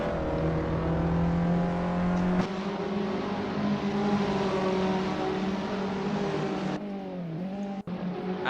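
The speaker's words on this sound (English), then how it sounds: "Oh, that's late on the brakes. You can hear how he shifted down." A Peugeot 206 race car in the Assetto Corsa racing sim at Oulton Park holds a loud, droning engine note, then drops sharply in pitch as it brakes and shifts down, with another car's whine close by.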